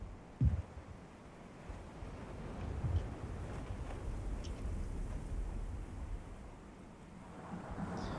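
Thunder rumbles low over steady rain and wind in the Isle of Infinite Storm area of the Pantheon video game. A deep boom comes near the start and another around three seconds, over a continuous stormy wash.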